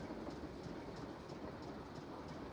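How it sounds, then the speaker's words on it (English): A train running on rails in a Nancy Drew video game gives a steady, low, quiet rumble with a faint rhythmic clatter, heard alone without talk. "even she knows better than to jump off a moving train"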